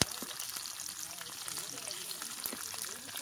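Garlic, onions, green chillies and tomato slices frying in hot oil in a village kitchen, a steady crackling sizzle with small pops throughout, fairly faint and close.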